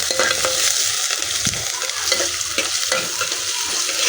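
Onion and masoor dal fry in a pan until golden, giving a steady, close sizzle with occasional scrapes and taps of stirring throughout, no voices.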